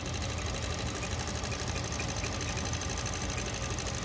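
A JUKI LBH-783 industrial buttonholing sewing machine runs in slow motion with a steady, dense mechanical whir and fast, even stitching chatter that stays loud and unbroken throughout.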